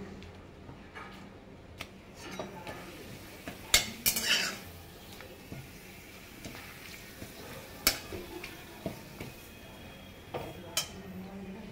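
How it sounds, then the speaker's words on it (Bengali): Papads frying in a pan, with soft crackling sizzle under scattered metallic clinks and scrapes of utensils against the pan, fairly quiet and close, no talking. "চলো পাঁপড়গুলো ভেজে নিই।"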